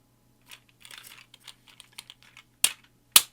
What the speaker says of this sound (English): Then these panels, they fold back and clip into place.